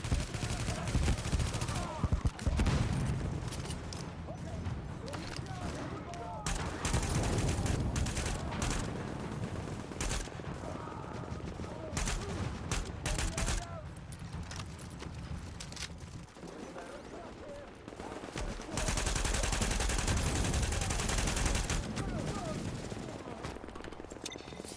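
Enemy turret gunfire in The Division video game, bursts of rapid automatic shots coming and going in dense waves, with someone talking at times amid the loud combat noise.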